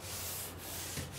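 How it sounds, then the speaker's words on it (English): Steady, close scraping of sandpaper rubbed back and forth over a drywall patch to smooth it, a continuous gritty hiss with slight pulses as the strokes change direction. "we need to go ahead and sand it down smooth so we can get it ready for paint"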